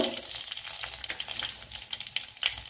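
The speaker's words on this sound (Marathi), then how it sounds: "कढीपत्त्याची पानं, त्यानंतर आपल्याला घालायचे अर्धा चमचा हिंग" Curry leaves and asafoetida hit hot oil for a lentil dal tempering, giving a loud, continuous crackling sizzle with fine popping throughout and no talk.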